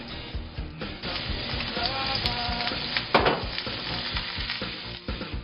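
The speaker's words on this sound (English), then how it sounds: "So after a few seconds, we will add the onion." Onion and ginger sizzle steadily in a hot pan, a loud continuous frying hiss with occasional stirring scrapes and a brief burst of sharper crackle midway.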